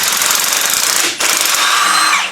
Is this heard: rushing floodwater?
no